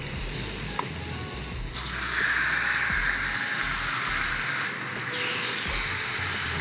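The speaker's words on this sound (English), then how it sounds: "Sizzle, exactly what we want." A loud, continuous sizzle of food searing in a little oil on a hot grill plate, hissing steadily up close with a couple of brief surges.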